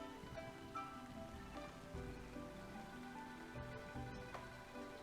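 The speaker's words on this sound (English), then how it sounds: "Though the rain isn't heavy, the mist is quite thick." Light, misty rain falls steadily in a video game scene, a soft continuous patter under a layer of quiet ambient music.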